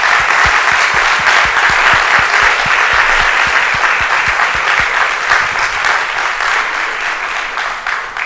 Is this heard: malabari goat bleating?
no